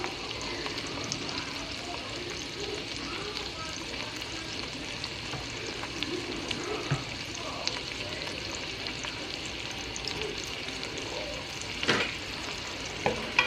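Celery and the white parts of green onions sauté in a hot pan, giving a steady, close sizzle that runs throughout with faint stirring scrapes and occasional pops.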